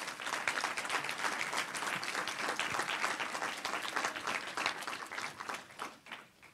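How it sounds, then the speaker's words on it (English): An audience at a law school speaker series event gives a sustained round of applause, dense, steady clapping from many hands heard at moderate distance for several seconds, thinning toward the end. "let us give you a round of applause?"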